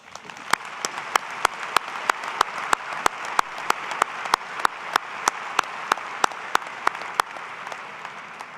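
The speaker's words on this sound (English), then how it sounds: "Please join me in congratulating all of them with a round of applause" Sustained audience applause fills a commencement ceremony for baccalaureate and associate degree graduates, a dense steady wash of clapping with a few sharp, louder claps standing out at regular intervals throughout.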